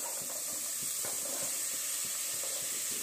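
Vegetables for sambar fry in a pan: bottle gourd, capsicum, pumpkin, carrot, eggplant and peas. A steady bright sizzle and hiss runs throughout, with soft stirring knocks at a regular rhythm.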